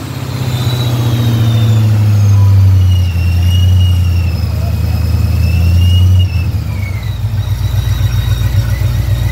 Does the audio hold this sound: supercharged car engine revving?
yes